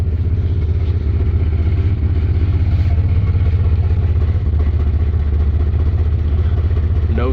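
Old project vehicle engine idling loud and close after years with old gas, a steady rumble with clattery texture and slight unevenness.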